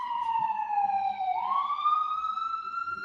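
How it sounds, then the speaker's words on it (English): A wailing emergency siren rises and falls in pitch, loud and steady, with faint street rumble underneath. "we get those darn sirens"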